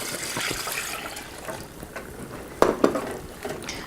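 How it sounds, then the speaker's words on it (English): Milk is poured into a pan of white sauce, a soft liquid trickle and splash that starts near and fairly quiet and is broken by a few brief clinks and knocks toward the end, with no voices. "Stir those things together and then add in 2 cups of milk."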